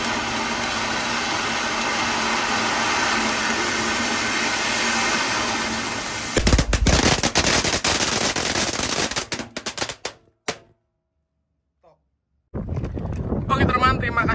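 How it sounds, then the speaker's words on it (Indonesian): A 4-inch konik firecracker fountain burns inside a jumbo wok with a steady roaring hiss, then bursts into rapid crackling bangs. After a sudden silence, more crackling follows, with voices heard nearby. "ada mercon konik fonten ukuran 4 inci guys"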